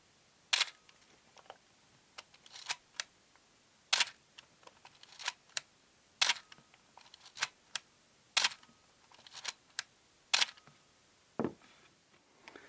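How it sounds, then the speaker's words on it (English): A film camera shutter fires repeatedly, crisp mechanical clicks every second or two, each followed by small winding and handling noises in a quiet room. "let's just hear what the shutter sounds like"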